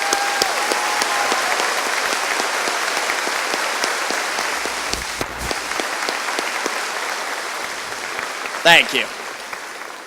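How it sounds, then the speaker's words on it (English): Sustained applause from a large audience at the Meadowbrook High School graduation ceremony fills a hall, steady and full for the whole span, with a short spoken phrase near the end. "please join me in giving them a big round of applause."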